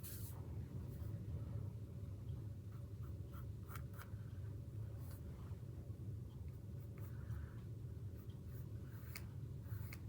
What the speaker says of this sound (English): Again, you see that I'm sketching.